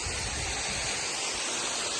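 Mude waterfall in Makwanpur district, Nepal, gives a steady, dense rush of falling water, even and unbroken throughout, with no voices over it.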